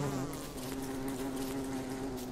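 A bee in the game Don't Starve drones with a steady, close insect buzz that holds at an even loudness throughout, alone without talk.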